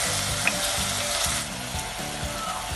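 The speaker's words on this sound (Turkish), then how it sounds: "küp küp doğramış olduğum havuçlarımı da içerisine ilave ettim ve soğanımla beraber onu da kavuruyorum" Diced carrots and onions sautéing in a hot pot for a pea stew, a dense continuous sizzle with soft stirring scrapes underneath, close and alone without talk.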